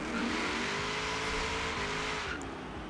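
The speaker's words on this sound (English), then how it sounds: "Their LS motor is, oh, it sounds so good" A Chevrolet Camaro Z28 with an LS V8 engine in the racing game Forza Horizon 3 drones steadily and loudly under load, its pitch rising slowly through the revs before easing off near the end, with no talking.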